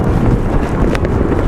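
Steady, loud wind at the South Pole roaring and buffeting the microphone, a continuous low rumble with gusty texture throughout and no voices.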